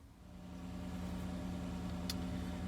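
A Chevrolet Silverado pickup truck from the 2014–2018 range idles steadily at low volume, a constant low hum with no revving, heard alone without voices.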